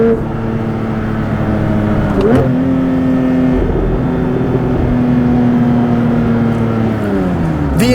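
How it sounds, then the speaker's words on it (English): A 2023 Porsche 911 GT3 Touring with a 4-liter flat-six, heard while driving: a loud, sustained engine note climbing and settling through gear changes, close and continuous, without talk. "listening to this 4-liter flat 6 engine just scream in a way a race car truly should"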